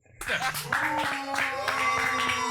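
A small group claps briefly during a French comedy song contest, with scattered handclaps mixed with voices and laughter over a couple of seconds.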